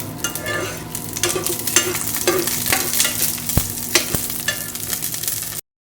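Garlic frying in a hot wok, a steady close sizzle with bursts of stirring and a few sharp utensil clicks against the pan, no voices.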